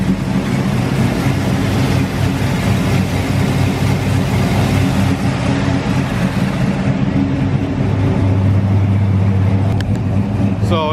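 An LS-swapped Chevrolet Cutlass on a dyno holds a steady, loud, low-pitched idle with a choppy throb, running continuously for the whole stretch without speech over it.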